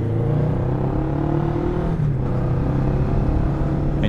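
A motorcycle engine in first gear at a driving school, juddering with a loud, continuous low rumble that holds steady throughout, with a brief dip midway.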